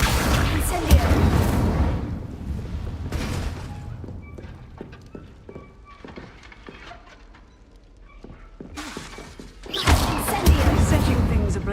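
Incendio fire spells setting things ablaze in Hogwarts Legacy: heavy whooshing, thudding blasts open and close the stretch, with quieter scattered knocks and game ambience in between.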